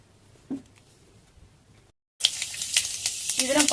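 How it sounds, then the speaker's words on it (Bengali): Mustard oil hits a hot wok (kadai) for Bengali-style kochu shak: near silence with a soft clink gives way to a sudden loud, crackling sizzle that keeps spitting and popping close by. "কড়াই গরম হয়ে গেছে, এর মধ্যে দিয়ে দেবো সরষের তেল,"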